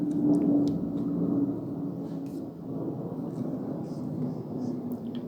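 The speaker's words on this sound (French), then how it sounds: "C'est un avion, ça." An airplane flies overhead outdoors in a town, giving a steady low droning rumble that eases off slightly, while people talk nearby over it.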